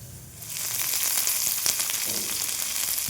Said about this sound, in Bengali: তারপরে গাজরগুলোকে চিড়ে চিড়ে করে কেটে ভেজে নিতে হবে, সেখানেও অল্প নুন দিতে হবে।